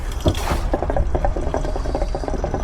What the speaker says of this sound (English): you can hear in the breather it is pushing water in